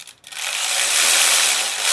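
A ratchet wrench with a short socket turns an exhaust bolt nut on an Indian FTR 1200 motorcycle, giving a steady, close, loud buzzing rattle of rapid pawl clicks that starts after a brief pause.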